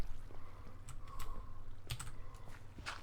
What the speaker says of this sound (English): I'm actually a fairly heavy typer, so even though I'm not typing on a clicky keyboard, it's still pretty darn loud.